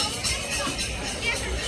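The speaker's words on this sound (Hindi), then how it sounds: "बहुत भीड़ है, बहुत भीड़ है।" Dense crowd bustle at Haridwar during the Mahashivratri festival, a steady hubbub of many distant voices and murmuring chatter filling the whole stretch with no single speaker standing out.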